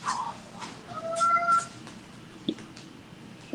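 A domestic cat gives a couple of moderate meows over a quiet indoor background, with no voices.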